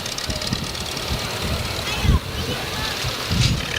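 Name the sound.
antique Farmall tractor engines idling in a Christmas parade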